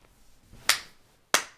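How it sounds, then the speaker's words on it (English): Two sharp hand claps spaced about two-thirds of a second apart, each a crisp, close, fairly loud slap with a quick decay, isolated with no talking. "Damn, I can't fucking clap today."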